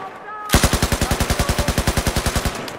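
Battlefield 4 machine gun laying down cover fire: a loud, sustained burst of about twenty rapid, evenly spaced shots lasting roughly two seconds, then stopping abruptly.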